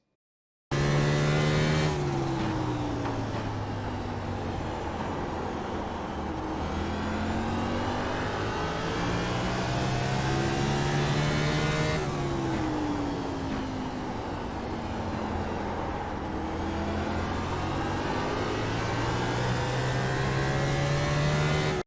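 A race car engine lapping Martinsville in the iRacing sim, droning loud and steady with repeated rising pitch sweeps as it accelerates out of the turns and drops back on entry, alone with no voices.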